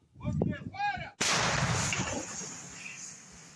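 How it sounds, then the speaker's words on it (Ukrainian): Someone speaks briefly, then a loud self-propelled artillery gun fires nearby at a field position, its boom rolling on and slowly fading into a long echoing rumble. "Наразі гармаші стріляють не дуже інтенсивно."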